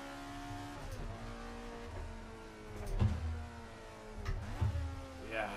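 An Alfa Romeo 33 Stradale engine revs up and down repeatedly in Assetto Corsa, rising high-revving whines broken by quick gear shifts and heel-toe throttle blips, loud and close.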